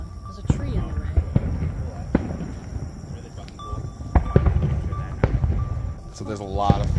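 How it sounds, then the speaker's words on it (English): Sharp booming pops of a fireworks show burst at irregular intervals outdoors at night, some distant and some closer, with people talking throughout. "we're going to wait till the fireworks show is over"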